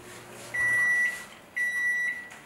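A microwave oven timer gives two long, steady electronic beeps about a second apart, clear and close over a faint background hum, with no talking.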